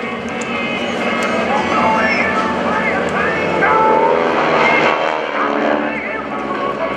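GEICO Skytypers propeller aircraft fly in formation at the 2015 NAS Oceana airshow, their engines a steady, loud drone heard under an announcer talking over the public address.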